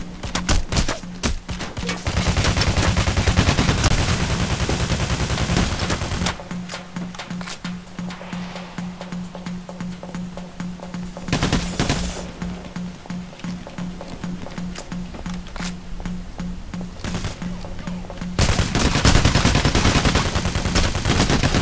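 Sniper fire and other gunfire in the heist shooter game Payday: The Heist, with loud repeated shots and sustained bursts over a steady background hum.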